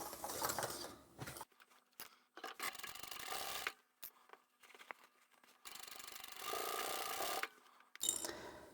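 Sewing machine triple-stitching a fabric book bag near its flap, heard as faint, raspy runs of stitching that start and stop several times, quiet and close.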